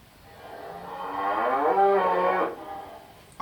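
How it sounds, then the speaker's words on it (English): A single cow moo played by a smart speaker's animal sound skill, swelling into a long, low lowing call for about two seconds, then cut off. "Here comes a cow sound."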